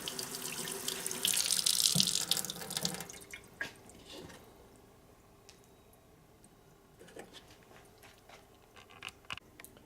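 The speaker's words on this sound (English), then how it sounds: "I'm just going to lightly water that." Tepid water poured lightly onto a potted mango seed, a short trickling splash that swells for a couple of seconds, then fades into scattered soft drips and small ticks at low volume.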